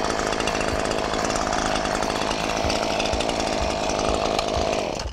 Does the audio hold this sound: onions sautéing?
no